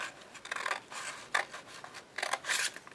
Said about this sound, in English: You want to cut along that fold line